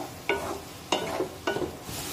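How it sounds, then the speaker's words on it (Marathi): Onions fry in a pan over a medium flame, with a low steady sizzle broken by three distinct stirring bursts at roughly even intervals. "मध्यम आचेवर हा कांदा छान तांबूस रंगावर भाजून घेऊया"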